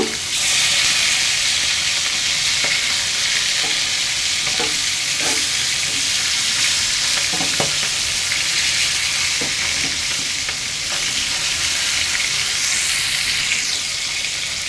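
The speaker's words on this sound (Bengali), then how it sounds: "মাছ ভাজা হয়ে গেছে আমি এখন নামিয়ে ফেলবো" Spiced pangas fish frying in hot oil, a loud continuous hiss and crackle with occasional clinks of a utensil, steady and close for the whole stretch.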